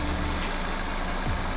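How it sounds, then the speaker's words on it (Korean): The 2.0-litre turbo engine of a Genesis G70 2.0T Supreme hums steadily at idle with the hood open, a close, even low drone with no other sounds. "엔진 소리도 일정하네요"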